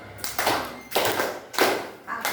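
A classroom group does a rhythmic triangle clap pattern, about four sharp bursts of many hands clapping in quick groups, fairly close, with no talking over it.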